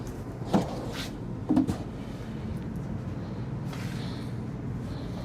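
Soft-close full-extension dovetail drawer gliding shut in a 2024 Renegade XL X45BBC motorhome, a couple of muffled soft thumps early on over steady low background hum.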